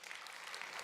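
Church congregation clapping during a Sunday service, a brief, fairly faint burst of steady applause from many hands.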